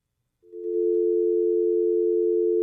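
Steady telephone dial tone that starts after a brief silence and then holds unbroken, loud and close, with no other sounds present.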